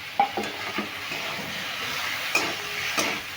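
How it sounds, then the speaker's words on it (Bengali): Mixed vegetables, including pointed gourd, are stirred with turmeric and salt in a frying pan while cooking Bengali shukto: several scraping spoon strokes over a steady, close sizzle, with no talking. "এবার সব সবজিগুলো দিয়ে হলুদ নুনের সঙ্গে ভালো করে মিশে নিই"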